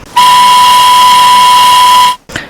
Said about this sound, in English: In the distance, a shrill whistle broke the silence.